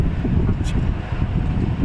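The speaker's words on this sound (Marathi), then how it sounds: "बाहेर खूप वारा सुटलेला आहे" Steady low buffeting rumble of strong wind hitting the microphone outdoors in a city in Eskilstuna, Sweden, continuous throughout without a break.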